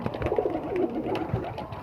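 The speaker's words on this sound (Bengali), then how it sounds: "এই যে সব পায়রা চলে এসছে হাতের কাছেই" Pigeons gathered at night around a handful of soaked chickpeas coo softly in low, rolling murmurs, several birds close by and no one speaking.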